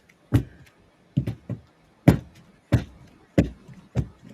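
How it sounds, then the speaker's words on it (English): A baking tin is tapped on a worktop to knock out air bubbles: about eight sharp, close knocks in short, irregular groups, separated by brief quiet gaps. "I'm banging out all air bubbles."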